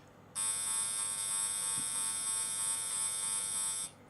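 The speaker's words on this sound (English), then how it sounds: "a baby monitor," An RF meter's audio function sounds while it measures a baby monitor: a continuous loud, harsh electronic buzz that starts suddenly, holds steady for over three seconds, then stops.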